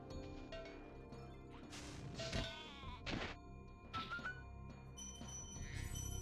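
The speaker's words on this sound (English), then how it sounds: "what the hell is that? Hold up. That's a sheep?" Several sheep bleats from Spyro the Dragon on PS1 ring out in short bursts among game-like clinks and thuds, fairly loud and close, with no talking.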